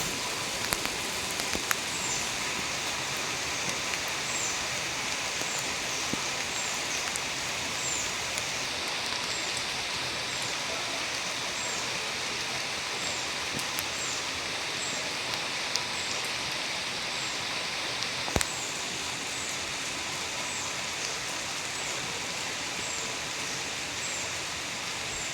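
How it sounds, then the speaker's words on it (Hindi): Heavy rain pours in a steady, dense hiss that stays even the whole way through, with a few faint clicks and knocks and no voices. "तेज बारिश।"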